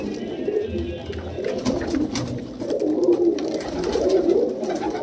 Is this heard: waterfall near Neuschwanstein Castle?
no